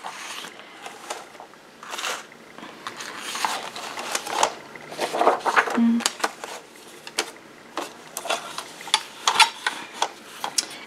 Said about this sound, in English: I can cut, usually with my little cutter, I can cut 2 or 3 pages at a time.